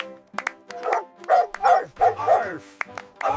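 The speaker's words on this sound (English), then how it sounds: "Arf! Arf! It's a seal." Several sharp, close barks of a seal in quick irregular succession, with short gaps between calls.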